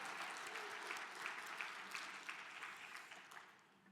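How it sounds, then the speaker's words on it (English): A conference audience applauds a speaker at a civil rights summit on disability rights, a steady dense wash of clapping that holds strong for several seconds before tapering slightly. "let's give Harold another round of applause for the work that he's done"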